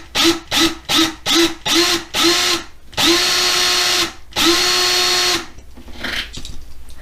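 A power drill whines loudly in a string of short bursts, then two longer steady runs as it bites into a metal post on a Hot Wheels toy car, before winding down.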